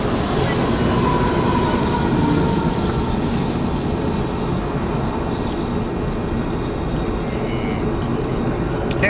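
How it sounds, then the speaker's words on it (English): A loud train rumbles past continuously, its heavy low roar filling the whole stretch with faint squeals above. "That train's really loud."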